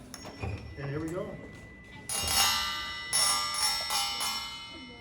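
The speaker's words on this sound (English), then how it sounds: "Well, let's try the gong." A handheld gong is struck twice during a children's science demonstration, each hit a bright metallic clang that rings and shimmers out, following someone speaking.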